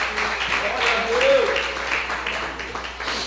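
A church congregation applauds during an evening service, a dense, even wash of clapping that holds steady for a few seconds, with a voice carrying faintly over it.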